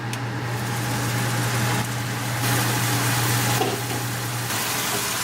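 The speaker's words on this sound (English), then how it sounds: "I'll start the fan." A kitchen exhaust fan runs steadily over a stovetop while pork with sweet mini peppers cooks on high gas, a constant droning hum with a low tonal whir that holds unchanged, fairly close, with no talking.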